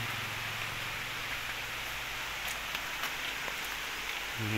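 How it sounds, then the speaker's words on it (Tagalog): Steady rain hisses without a break, with a low hum underneath and a few faint taps and drips near the end. "Umuulan pa"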